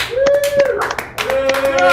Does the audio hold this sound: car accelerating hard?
no